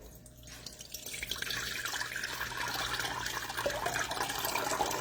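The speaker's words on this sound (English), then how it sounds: "pouring water over a bag of pre-shredded cheese" Water poured from a cup over a bag of pre-shredded cheese, a steady splashing pour that builds from a quiet start and continues evenly, close by.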